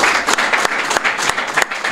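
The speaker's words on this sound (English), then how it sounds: "Let us give our assistant ministers a round of applause." An audience at a religious gathering applauds its assistant ministers, a loud, dense burst of clapping that fills the room and carries on for the whole moment.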